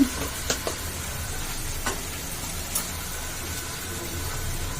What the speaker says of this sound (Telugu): ఇలా గరిటితో ఇట్లా వచ్చేసుకుంటే కూడా మనకు టమాటాలు అయితే తొందరగా వస్తాయి కదా ఇప్పుడు దీంట్లోనే కారం వేసుకుందాము